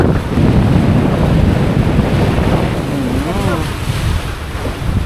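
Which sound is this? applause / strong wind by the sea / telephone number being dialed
strong wind by the sea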